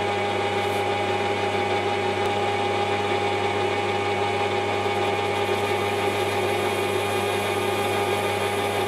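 A wood lathe turns with a high-speed steel tool bit cutting, its motor giving a steady tonal whine and hum that holds constant throughout with no pauses and nobody speaking.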